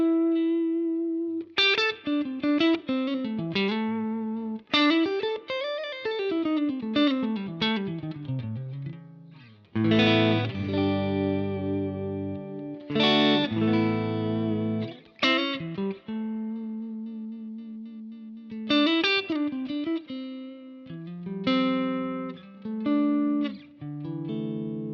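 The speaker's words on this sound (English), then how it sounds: "So I'm plugging into a Vox AC15 right now and it sounds like this." Electric guitar played through a Vox AC15 amplifier with no boost pedal engaged, clean melodic runs and ringing chords with a slight chorus-like shimmer, moderately loud and continuous with short gaps, no voices.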